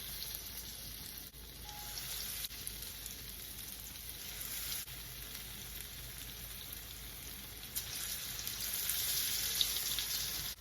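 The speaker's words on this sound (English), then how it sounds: "Now I'm gonna take a spoonful of the batter and put them in the oil." Spoonfuls of dahi bara batter fry in hot oil, giving a continuous sizzle at moderate volume with a few faint clicks and a slight swell toward the end.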